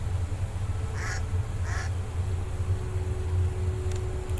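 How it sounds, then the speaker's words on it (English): A pixel-art chicken in the video game Daughter of Crone gives two short clucking calls about half a second apart, a little beep-like, over a steady low game hum. "Is that a chicken?"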